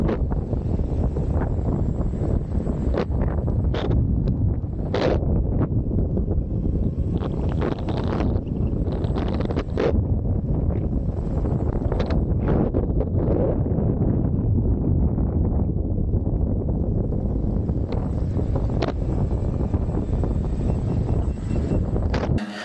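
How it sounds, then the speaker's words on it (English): Strong wind buffets the microphone in a continuous low, roaring rumble while riding a Begode Tesla 3 electric unicycle (84V, 16-inch wheel, up to 50 km/h) on a windy day, heard alone without speech. "It was quite a windy day."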